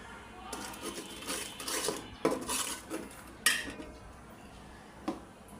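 Ginger garlic paste being mixed into a pot for a beef and potato dish cooked with milk, a spoon clinking and scraping against metal in irregular bursts, with a few sharp taps, close and moderately quiet.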